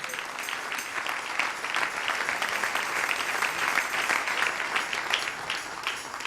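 A church congregation applauds during a sermon, steady sustained clapping from many hands filling the room at moderate volume with no talk over it.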